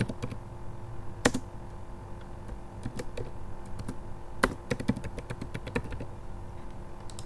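Keys clatter steadily on a computer keyboard as product data is entered into an application, with a few sharper keystrokes standing out against a low background hum.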